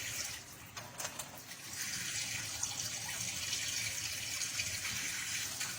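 Tap water runs into a sink while a one-year-old toddler washes dishes, a faint steady hiss of flowing water with a few light clinks near the start and no talk.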